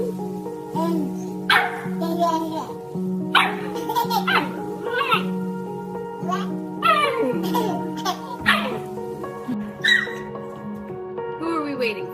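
An excited puppy plays with a person, giving short yips and squeaky vocal bursts in quick, uneven runs, while a person speaks softly between them and a steady tonal hum runs underneath.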